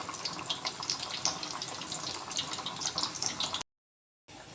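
Potato chips frying in hot oil crackle and hiss continuously with bright spitting pops, fairly close, with no talk; a short silent gap interrupts near the end before the sizzle resumes.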